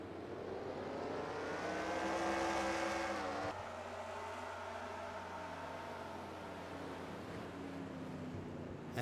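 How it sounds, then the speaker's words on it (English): Race cars at a short-track exhibition race roar loudly as they accelerate away at the green flag, a dense continuous engine drone with rising and falling pitch sweeps as the field passes. "About to reach the green flag are Thompson and Fitzwater, and there is the green flag"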